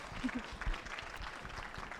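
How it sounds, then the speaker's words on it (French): An audience at a panel discussion at the Paris horse show gives soft, distant applause, a steady patter of clapping at low level. "On peut les applaudir"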